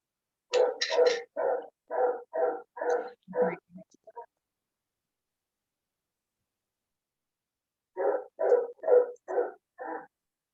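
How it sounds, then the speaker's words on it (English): A dog barks repeatedly in the background of an online call, with a quick run of sharp barks and a few whimpers, a pause, then another burst of barks. "Someone's got a dog in the background."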